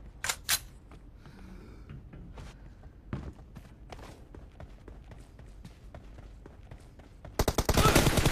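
Gunfire in a mobile shooter video game, with scattered single shots and clicks before a loud, rapid burst of automatic fire at the end.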